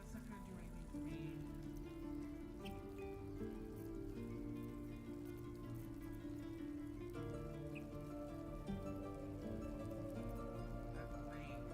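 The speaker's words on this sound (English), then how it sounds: "That rain" Steady rain in a video game patters on surfaces under a dense musical backdrop, a continuous soft hiss that never lets up.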